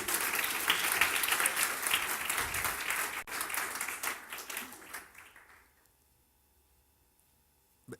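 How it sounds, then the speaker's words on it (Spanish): A church congregation claps during a Spanish-language sermon, full and lively at first, then thinning and fading out over about five seconds into near silence. "Démosle ese aplauso al Señor."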